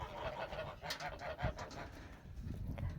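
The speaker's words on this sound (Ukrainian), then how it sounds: "Мої гусочки вже побачили, що тут буде водичка, і дуже хочуть сюди потрапити." Several geese honk repeatedly beside a small homemade pond, overlapping calls in a noisy, insistent chorus.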